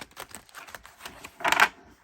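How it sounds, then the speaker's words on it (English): Tarot and oracle card decks are shuffled by hand, with soft scattered card taps building to one brief, louder riffling burst near the end. It is close and quiet, and nobody speaks. "let's go ahead and start shuffling"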